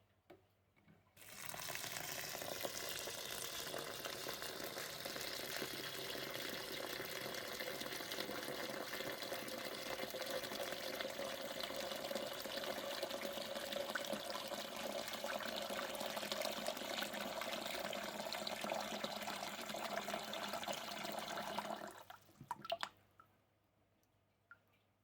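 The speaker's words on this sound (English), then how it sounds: "we'll put cold water on them and give them a rinse." Aquarium decorations are rinsed under a cold running tap, a steady close hiss and splash of flowing water for about twenty seconds before stopping, with no talking.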